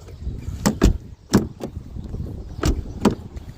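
Outside door of a Saab 9-3 with a repaired exterior handle, opened in a few sharp clicks and latch clunks in close succession, near and fairly loud, with no talk.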